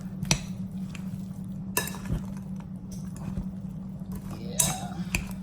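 A utensil stirs food in a pot while making a soul food Sunday dinner, with scattered scraping strokes and light metallic clinks over a low steady hum, fairly quiet.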